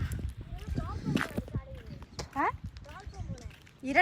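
Bullock hooves clop unevenly along with a rolling bullock cart in a village in Kilinochchi, Sri Lanka, while people talk nearby over the plodding steps.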